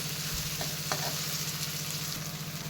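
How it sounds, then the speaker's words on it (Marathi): Tomatoes fry in oil in a pan for a vegetable curry, a steady close crackling sizzle with a few soft stirring clicks, continuous and without talk. "ग्रेव्ही व्हायला मदत होते म्हणून आपण टॉमॅटो वापरूया छान भाजू देऊया"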